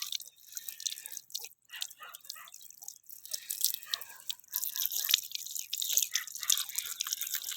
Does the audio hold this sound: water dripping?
yes